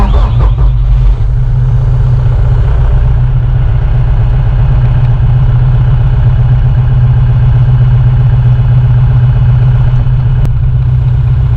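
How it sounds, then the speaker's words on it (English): An RK74 tractor's engine starts with a rough catch, then settles into a loud, steady, low diesel idle rumble that continues close by with no voices. "When you start up the engine in this RK74, you feel like Tim the Toolman Taylor."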